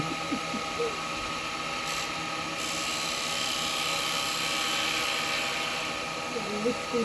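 A woodturning lathe whirs steadily as a carbide tool hollows a bowl, cutting fine shavings, a continuous mechanical drone with faint background voices.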